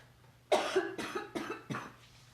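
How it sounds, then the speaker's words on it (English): Four quick, dry coughs follow one another closely from a nearby person, sitting over a faint steady hum in a quiet room. "I have the Colorado cough"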